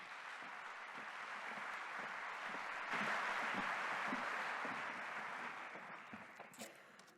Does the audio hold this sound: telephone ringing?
no